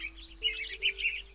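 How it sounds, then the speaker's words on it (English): Musical bird tree in the Sago Mini Forest Flyer app: a short run of bright, high chirps in a quick, tuneful pattern, clear and close. "We could try and play music with our musical bird tree"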